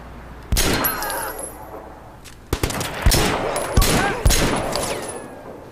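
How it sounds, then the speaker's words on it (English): Video game gunfight in Sleeping Dogs: loud bursts of automatic gunfire and single shots crack close by, starting with one blast, then a pause, then rapid volleys with sharp impacts and ringing echoes. "First gunfight in the game."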